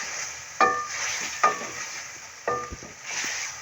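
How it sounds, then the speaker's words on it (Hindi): Peas and vegetables for a vegetable biryani are stirred in a hot pan, with a soft sizzle and three distinct scraping strokes of a spoon, close and fairly quiet. "1 कप मटर, अच्छी तरह से इसे मिक्स करेंगे"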